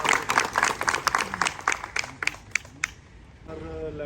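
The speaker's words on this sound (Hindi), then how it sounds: "जोरदार तालियां इनके लिए।" Applause at a retirement gathering, a quick burst of crowd clapping for about three seconds that fades into a voice starting to speak.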